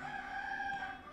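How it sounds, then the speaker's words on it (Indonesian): A rooster crows once, a short sustained call with a faint, somewhat distant tone ending in a low thump. "Suara ayam berkokok."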